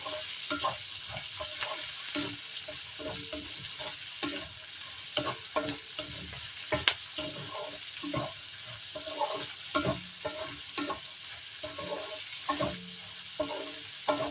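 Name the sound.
carrots frying in a pan for Ilocano igado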